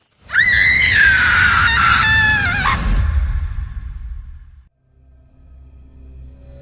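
A woman's loud, piercing scream rises and wavers for about three seconds as a horror story sound effect, then fades into a low, dark rumble.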